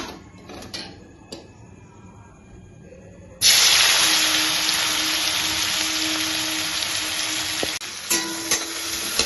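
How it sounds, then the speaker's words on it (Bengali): Tomato and onion frying in butter in a pan, a loud steady sizzle that starts suddenly as the vegetables go in and keeps hissing evenly, with a few faint clinks of a utensil, preceded by quieter kitchen sounds. "আমি সামান্য বাটার দিলাম এর মধ্যে, দিয়ে টমেটো আর পেঁয়াজটা আমি খুব ভালো করে ভেজে নেব।"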